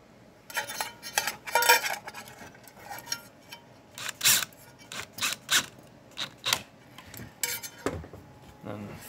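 Small square-headed screws being tightened on the motor stops of a K9 II or Circ II pet dryer during a brush change, giving a series of sharp metallic clicks and ratchety scrapes in irregular bursts, close up with no talking.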